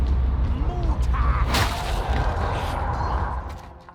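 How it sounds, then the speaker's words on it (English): A horde incoming sound cue in a video game: a dense, loud, rumbling roar with a sharp swelling burst midway, holding steady before fading toward the end. "This is the sound of a horde that is incoming."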